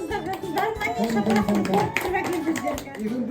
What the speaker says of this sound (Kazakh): Шапалақ.